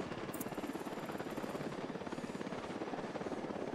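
A helicopter in the video game Ghost Recon Wildlands gives a steady, loud, thudding rotor chop that pulses evenly and continuously throughout, with no talk over it.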